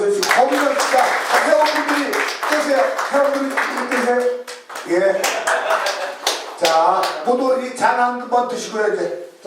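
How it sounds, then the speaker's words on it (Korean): Sustained clapping from a crowd with voices mixed in, steady and fairly loud throughout, with a brief dip midway before the applause picks up again. "박수 한번"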